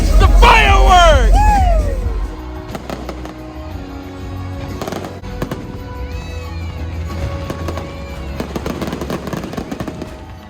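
Fireworks at the Electric Ocean event at SeaWorld Orlando crackle and pop in rapid bursts with deep booms, while a crowd cheers, whoops and talks over the show.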